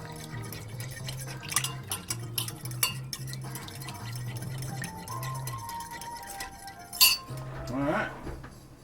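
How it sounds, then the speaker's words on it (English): Metal utensil stirs Hakubaku tonkotsu instant ramen noodles in a pot, with repeated clinks and scrapes against the pot and a low steady hum beneath, plus a brief louder clatter near the end. "Dump her on in. Give her a stir."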